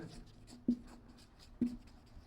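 Someone writes by hand, with quiet scratchy strokes broken by two distinct taps of the pen.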